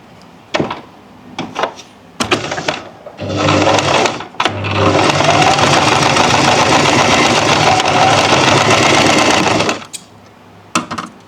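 Electric sewing machine running a long continuous seam on a fabric strip for a neckline binding, loud and close for about six seconds, preceded by a few short bursts and followed by quiet handling.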